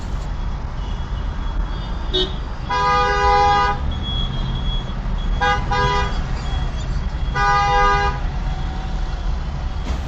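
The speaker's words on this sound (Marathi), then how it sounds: "आता हे पाठीमागलचे भाऊ सारखं हॉन वाजवतात" Car horns honk in busy road traffic, with three separate sustained blasts of a few seconds each over a steady rumble of engines and road noise.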